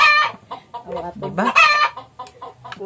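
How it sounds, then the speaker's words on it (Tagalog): Chickens cluck nearby in short, choppy bursts, loud and close, with a brief spoken word mixed in. "Daghan man kag manok diri tiya."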